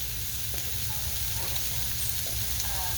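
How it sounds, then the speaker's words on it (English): Vegetables for chicken corn chowder sauté in a hot pan, a steady close sizzle running unbroken throughout, with a few faint stirring touches and a low hum underneath. "let this saute for a few minutes"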